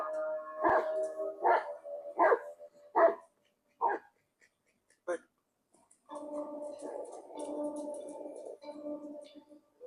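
A dog barks in a run of sharp, separate barks, each ringing out loud against near silence, and then voices continue in a quieter stretch.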